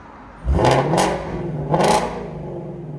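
A 2017 Ford Mustang GT350 with its 5.2L Voodoo V8, resonator delete and X-pipe, revs hard twice outdoors, each sharp climb falling back to a loud, throaty idle.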